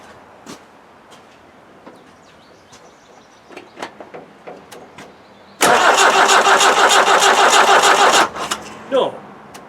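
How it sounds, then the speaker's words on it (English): A Land Rover Defender 2.5 naturally aspirated diesel is cranked without cold start: quiet clicks and rustles, then a loud, steady rhythmic starter churn for nearly three seconds that stops without the engine catching, followed by faint handling noises. "just as an experiment, I'm going to start it without any cold start"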